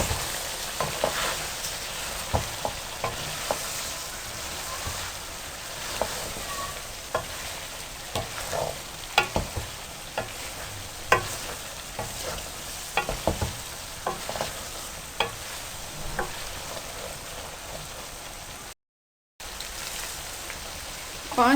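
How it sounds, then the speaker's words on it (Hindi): Chicken pieces and crushed chickpeas fry steadily in a pan, a continuous close sizzle broken by repeated scraping and clacking strokes of a spoon stirring, with a brief dropout near the end. "अच्छी तरह से भून लें।"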